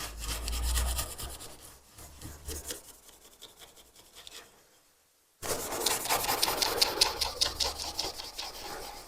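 Abrasive pad scrubbing a saw blade, a steady raspy rubbing that runs in bursts, pauses briefly into near silence, then resumes louder and busier with rapid strokes.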